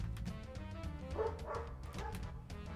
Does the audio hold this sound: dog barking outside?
yes